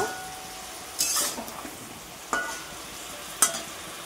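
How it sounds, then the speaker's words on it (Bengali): Meat fries in a pan while being stirred, a low continuous sizzle broken by a few sharp metallic scrapes and clinks of a utensil against the pan, spaced apart. "তো এটা আমি সুন্দর করে আর একটু নাড়াচাড়া করে নিই, তারপরে মশলা দেব।"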